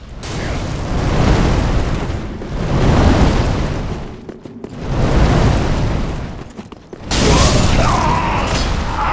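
Repeated roaring fire-arc blasts from a boss wielding Wolnir's Holy Sword in Dark Souls 3 PvP, loud broadband whooshing bursts in three long waves with mechanical clanks between, ending in a brighter hissing flare.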